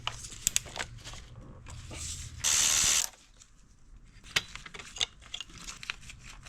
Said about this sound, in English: I'm going to take that off with what looks like a 12mm socket